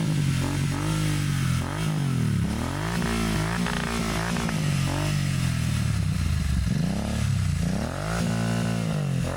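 A Royal Enfield GT 650 motorcycle is ridden, its engine loud and close, rising and falling through repeated revs and gear changes, with some mechanical clatter.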